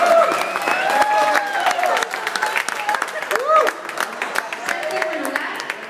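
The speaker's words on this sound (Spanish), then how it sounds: "Un aplauso. ¡Venga!" An audience applauds and cheers at a bowling tournament award ceremony, steady clapping that keeps going across the whole stretch with voices and shouts mixed in.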